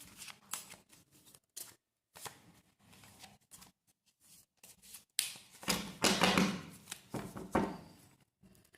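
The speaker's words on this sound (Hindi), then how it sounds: "कार्ड्स को फिर से शफल कर लेते हैं" Tarot cards are shuffled by hand, a run of quiet riffling and flicking bursts with short gaps, building to a denser, louder stretch of shuffling near the end.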